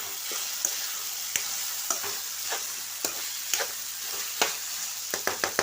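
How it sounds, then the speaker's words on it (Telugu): A spoon scrapes and taps steadily through bobbarlu and tomato curry in a pan, about one stroke per second, over a soft, constant sizzle, with a quicker run of strokes at the end. "ఒకసారి మళ్ళీ కలుపుకుందాం"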